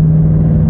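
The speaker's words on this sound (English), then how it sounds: "And then you have the exhaust, the V8 noises, all those things." A 2024 Ford Mustang V8 with a Steeda Tri-Ax race shifter fitted makes a brief, loud, steady exhaust rumble with a strong low hum, heard close and without any voices.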